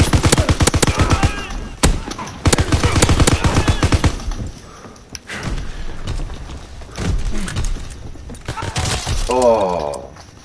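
Gunfire in the video game Call of Duty WWII: loud, rapid machine-gun bursts at the start, then scattered shots and thuds, with a player speaking over the action near the end.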